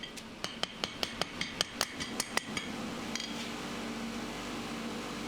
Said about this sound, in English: The first thing I'll do is upset the end of the bar by driving the hot steel into the anvil.